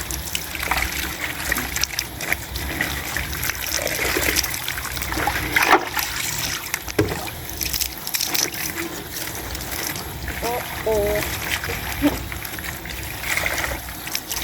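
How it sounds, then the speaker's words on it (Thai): Clothes being rinsed by hand in a full tub of water, dunked and rocked up and down by the collar, with steady splashing and sloshing close by and occasional louder splashes. "ใส่น้ำเต็มแล้วจุ่มโยก จับคอเสื้อโยกขึ้นค่ะ"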